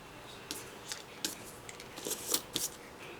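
Scissors snip through a stamped paper piece in a series of short, crisp cuts close by, irregularly spaced with brief pauses between them and no talking.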